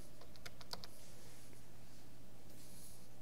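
Computer keyboard keys tapped while entering a password, a few quick, quiet clicks in a short burst near the start before faint background hum.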